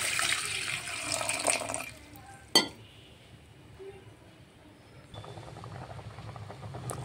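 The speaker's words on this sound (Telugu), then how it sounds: "ఇక్కడ చామగడ్డలు బాగా ఉడుకుతున్నాయి" Bubbling, hissing simmer of taro roots boiling in salted water in a pot on the stove, louder at first and then softer, with a single metallic clink partway through.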